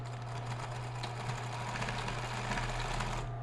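A sewing machine backstitching along the side seam of a maternity nursing bra, running steadily and close with a fast, even motor hum and stitching chatter, then stopping abruptly at the end.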